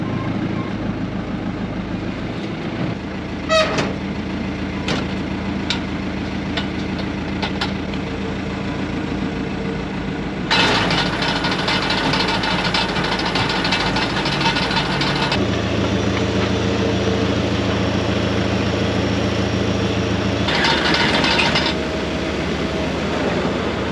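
A farm tractor's engine runs steadily at harvest time, a low continuous drone with occasional knocks and clatter, while the load shifts in louder stretches partway through.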